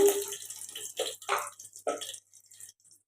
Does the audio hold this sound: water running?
yes